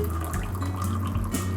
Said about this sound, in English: So all that's left to do is pour the coffee.